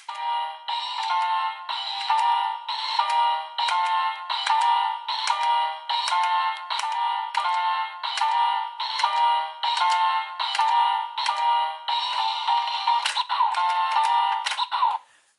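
A DX Beat Raise Buckle toy plays its button sounds and electronic jingles, a steady run of bright, loud, evenly spaced beeping phrases repeating for about fifteen seconds with no talking.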